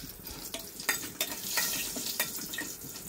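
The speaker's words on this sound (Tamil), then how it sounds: "இந்த வரமிளகாய் போட்டுட்டு இது எண்ணெயில் கொஞ்சம் வதக்கும்." Dried red chillies and fenugreek seeds fry in hot oil in a home kitchen, a soft continuous sizzle with several quick stirring scrapes and clinks in the pan.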